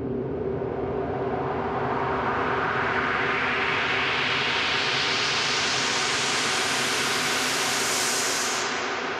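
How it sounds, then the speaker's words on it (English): A steady, dense roaring hiss of a boiling kettle processed with vocoder, EQ and reverb, its bright upper edge slowly rising over nine seconds, loud and continuous with no speech. "This is a kettle boiling and I've got some of my go-to effects."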